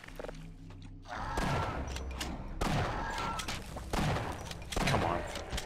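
Ammo crates smashed open in Half-Life: Opposing Force, with a run of loud cracking, thudding impacts at roughly one-second intervals over background game noise, some speech faintly present.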